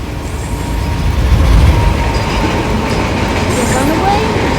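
CSX runaway freight train rolling along the rails, a dense rumble of wheels and rail noise with faint squeals, steady and fairly loud throughout.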